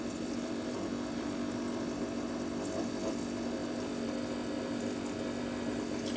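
A tea maker's pump draws water out of its reservoir with a low, even mechanical hum and faint watery churning, steady and quiet throughout.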